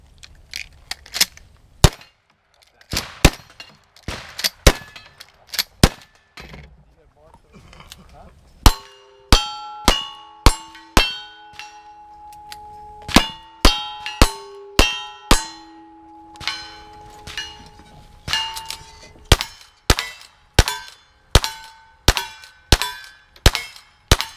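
Pistol shots ring out one after another on a shooting stage, many followed by bright metallic clangs from steel targets, in a steady rapid rhythm with a few pauses, loud and close.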